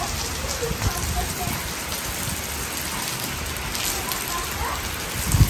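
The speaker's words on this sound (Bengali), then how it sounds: "ঝুমঝুম ঝুমঝুম করে বৃষ্টি হচ্ছে" Heavy rain pours steadily as heard from a balcony, a dense continuous hiss of drops striking surfaces close by, with a few louder splashes near the end.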